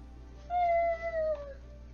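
A cat meows once in the video game Goat Simulator, a clear drawn-out call over quiet game background noise.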